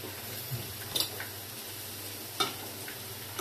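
Spicy chicken wings stirred into sauce in a pan, a soft low sizzle with faint wet squelches and occasional light taps of the utensil against the pan.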